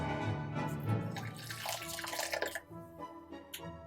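Hot water pours steadily over sugar in a bowl to dissolve it for a Fa Gao cake, a close, gurgling liquid stream that continues for a few seconds before trailing off.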